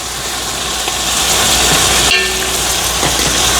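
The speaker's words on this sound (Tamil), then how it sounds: "அதுக்கு இறால் எல்லாம் வதங்கி கொண்டு இருக்குது" Shrimp sauté in masala for shrimp biryani, giving a loud, continuous hissing sizzle close by with a brief clatter partway through.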